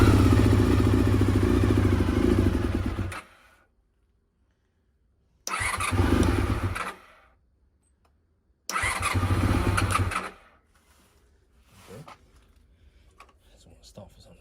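A Honda VFR400 NC30 motorcycle engine cranks in three separate bursts of whirring, chattering starter churn, each stopping without the engine catching, with short silences between attempts.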